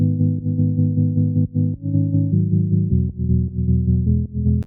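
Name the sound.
synthesizer pad, sine wave with overtones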